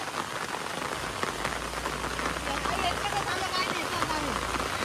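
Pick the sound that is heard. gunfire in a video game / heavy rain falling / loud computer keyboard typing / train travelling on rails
heavy rain falling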